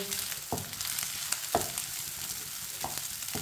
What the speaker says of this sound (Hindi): अब चावलों को 3 मिनट के लिए पका लेंगे।